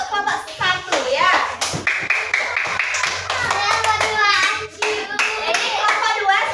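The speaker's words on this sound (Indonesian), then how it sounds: "Tepuk tangan untuk kelompok 1 ya." A classroom of Balinese Hindu religion students claps for a presenting group, quick rhythmic hand clapping mixed with children's chatter and voices, close and lively throughout.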